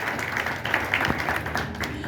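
Audience applause at a rockabilly vintage fashion show in Ohio, a steady, moderate patter of clapping hands from a crowd, fairly distant and even throughout.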